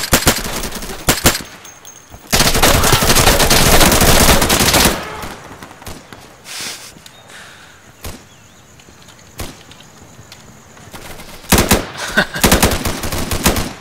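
Automatic rifle fire in the video game Insurgency, with several loud sustained bursts, the longest running about two and a half seconds, alternating with scattered single cracks and quieter gaps.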